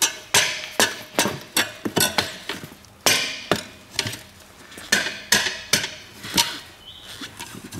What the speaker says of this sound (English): just to tap it around with the rubber hammer.